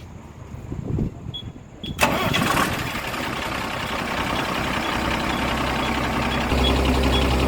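A Tata 3118 truck engine cranks and catches after a serviced radiator and water tank are refilled, then settles into a steady, loud diesel idle.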